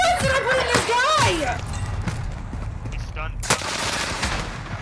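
Gunfire in a shooter video game, a fast rattle of shots close up with a sharp crack later on, under an excited player shouting.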